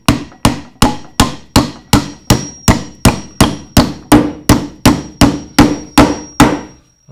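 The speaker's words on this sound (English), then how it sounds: "pulling the hammer down is much easier than trying to force it in this way" Steady, evenly spaced hammer blows, about two per second, each a sharp ringing strike driving nails into wood that decays quickly, with no talking.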